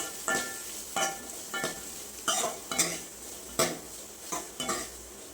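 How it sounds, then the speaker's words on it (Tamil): Small onions sautéing in oil in a pan for South Indian fish curry, stirred with a spatula in a repeating rhythm of scrapes every half second or so over a steady close sizzle, with no voices. "வெங்காயம் நல்லா பொன்னிறமாக வர வரைக்கும் வதக்கிக்கோங்க"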